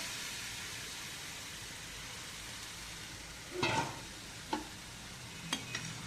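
Kadhi gravy poured into a hot pan, a steady broadband sizzle running throughout with a few louder stirring scrapes and splashes near the middle and end, no voices.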